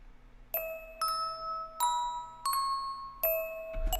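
Bright bell tones from a song arrangement, struck one after another in a slow, even melody with each note ringing out and overlapping the next, clear and alone without voices.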